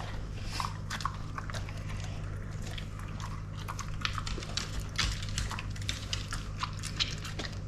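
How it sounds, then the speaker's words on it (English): A dog munches a homemade peanut butter and bacon treat, giving a run of crisp, close bites and crunches over a steady low indoor hum. "And he's also munching that one right up."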